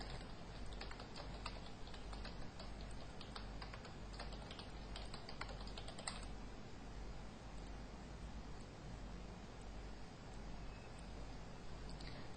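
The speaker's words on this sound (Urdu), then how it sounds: "ہم انٹر کر کے ٹائپ کریں گے" Fingers type on a computer keyboard during a CorelDraw lesson, a faint steady patter of key clicks over a low background hum that thins out partway through.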